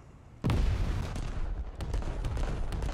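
A warship's main guns fire a heavy, high-explosive salvo in a naval battle game: one sudden, loud boom followed by a long rolling rumble with a few fainter shots trailing behind.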